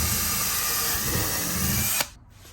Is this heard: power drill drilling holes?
yes